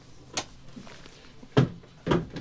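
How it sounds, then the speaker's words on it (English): Three separate bumps and knocks of a hidden cabin's sliding door on a Sargo 45 boat being moved and shut, with a sharp thud followed by a second knock near the end. "Pull the door across."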